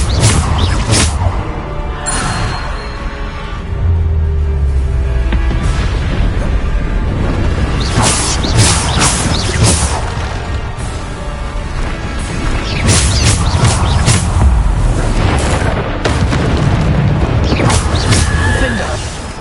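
Bombarda spell explosions in Hogwarts Legacy, a PS5 game, land as deep booming blasts and crashes that repeat through a busy, continuous battle soundscape, with a voice calling out spell names throughout.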